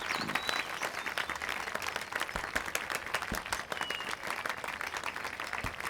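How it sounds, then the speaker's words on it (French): Wedding guests applaud the newlyweds in sustained, moderately distant clapping with individual sharp claps standing out from the crowd. "Applaudissements pour les mariés"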